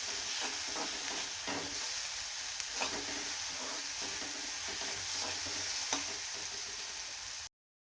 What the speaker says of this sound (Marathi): तेल थोडंसं जास्त टाकलं की कांदा एकदम छान, जसं आपण तेलामध्ये कसं तळतो ना तसं छान भाजतो